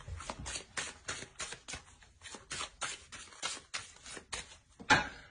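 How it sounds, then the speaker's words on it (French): An oracle card deck is handled with a rapid run of crisp papery flicks and riffles, steady and close, ending in one sharper snap. "On va tirer une carte conseil."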